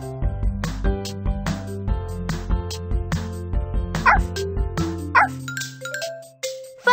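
Game puppies barking in a Dora the Explorer video game, repeated cheerful yips mixed with chiming jingles and tonal music, loud and up front.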